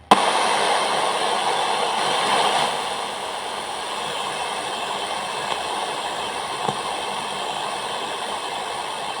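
Philips two-in-one tape recorder radio tuned to FM with no station, giving a steady broadband hiss and rushing static, fairly loud and continuous with a slight drop in level partway through and a few faint clicks.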